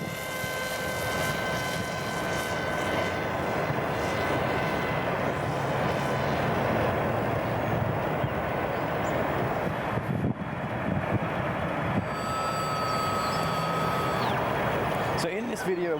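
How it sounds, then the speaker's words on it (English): A small test plane on an automated drone flight drones steadily and continuously throughout, with a mid-range engine hum and a brief whine near the end. "this is a smaller plane than the real one. It's just a test flight"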